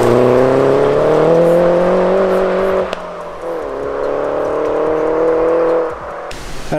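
A Mini John Cooper Works GP with a Ragazzon exhaust revs and pulls through gears, a loud, close engine note rising in pitch, then dropping away before building again.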